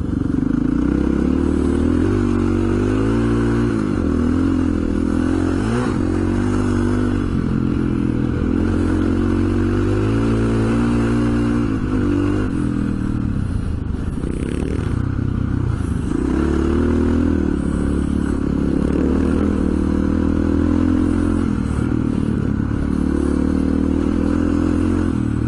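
Two motorcycles, a WR and a 590, ride through a slippery creek crossing, their engines droning loud and continuous with shifting revs, gear clatter and splashing scrapes throughout.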